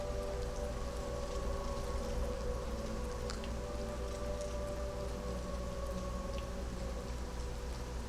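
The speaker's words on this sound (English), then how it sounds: "I feel like it's always raining when I'm out here." Steady rain in the video game Elder Scrolls IV: Oblivion Remastered patters softly and continuously, a faint even hiss with scattered drops and a low background hum.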